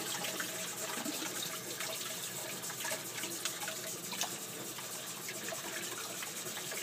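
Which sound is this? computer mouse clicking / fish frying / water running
water running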